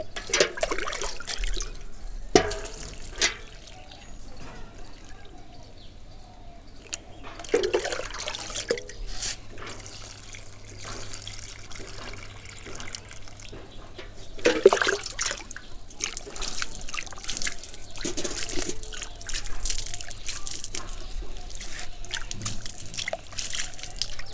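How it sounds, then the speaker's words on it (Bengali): Water poured over a newly planted bougainvillea seedling trickles and splashes into the soil, in irregular bursts and drips with a few louder sloshes, heard close up for a long stretch with no talk. "একদম ভরপুর পরিমাণে জল দিয়ে দেবে"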